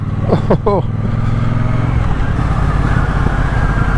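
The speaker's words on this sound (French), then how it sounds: "Le bruit du moteur est vraiment sympa" A Triumph Bonneville Bobber motorcycle engine rumbles deep and low at low revs, close and steady, after a few brief tonal chirps at the start.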